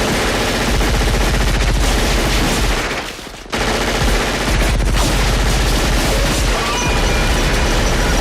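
Heavy automatic gunfire from a jungle commando battle in the movie Predator, loud and dense sustained bursts with a brief drop around the middle before the firing resumes.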